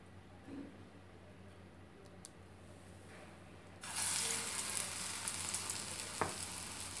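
Masala vadas slid into hot oil in a frying pan on a stove turned low, a quiet hum first with a faint clink, then a sudden loud bubbling sizzle that keeps crackling to the end.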